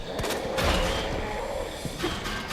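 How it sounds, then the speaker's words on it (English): Gunfire in the Resident Evil 2 Remake video game: a few muffled shots and booms land over a busy, continuous game soundscape, loud throughout with no clear separation between blasts. "then you can just turn around and shoot him"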